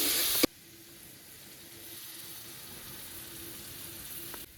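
Spinach paste for palak paneer drops into hot spiced oil with a brief loud burst of sizzle. A quieter, steady frying hiss follows close by.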